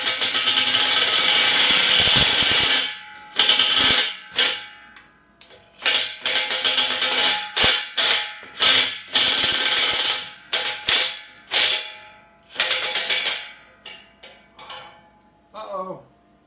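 A DeWalt power drill taps a hole in steel on a homemade workbench, whining loudly in a long run and then in many short stop-start bursts, close up and grinding.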